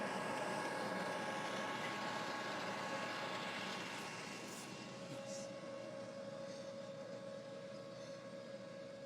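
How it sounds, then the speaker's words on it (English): A high-speed 16-row corn planter runs across a field, giving a steady, loud broadband mechanical roar with a sustained tonal whine that stays continuous throughout, with no talking. "here we're planting with that high-speed planter, 16 rows at a time"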